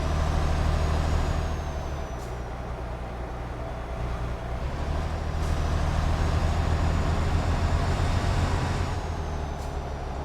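A MAN truck drives in Euro Truck Simulator 2, its engine a steady low drone throughout with brief air-brake hisses breaking in now and then.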